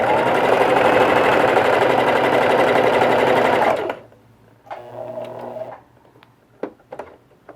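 Sewing machine stitching a fabric face mask with elastic, running in one steady, fast burst of close stitching for a few seconds before stopping, followed by quieter fabric handling and small clicks.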